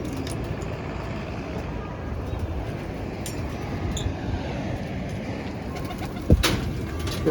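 Pet pigeons coo steadily, close by, as they are released from a rooftop loft, amid a dense, continuous flutter of wings and background noise, with a single sharp knock near the end.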